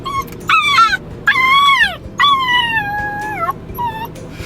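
A Maltipoo dog howls and whimpers from separation anxiety, giving three long rising-and-falling wails close to the microphone, followed by a short whine.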